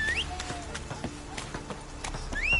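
Horse hooves clip-clop at a steady pace in the Witcher 3 video game, close and moderately loud, mixed with other game sounds and occasional high whistling tones.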